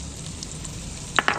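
Chopped yellow onion hits hot oil in a pan and sizzles steadily at a low hiss, with a couple of sharp spatula clanks near the end as it is stirred.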